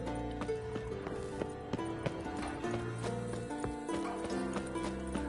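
A new horse in The Witcher 3 video game trots along with steady, rhythmic hoofbeats, close and even, layered over sustained tonal game sound.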